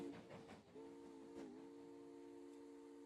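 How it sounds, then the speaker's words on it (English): A train whistle sounds as a sustained, layered tone that holds steadily for a couple of seconds after some brief muffled noise, fairly quiet and alone with no talking. "That's a good whistle."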